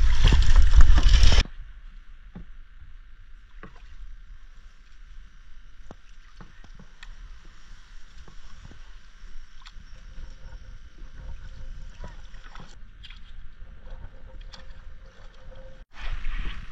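A small boat paddled on the sea: soft, faint paddle strokes and gentle water movement over a quiet background, framed by louder rushing bursts at the start and end.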